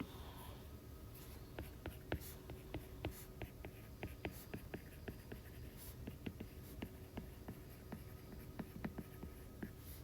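A pen or pencil writes out a math problem on paper, with a steady run of faint, quick scratches and taps close by in a quiet room.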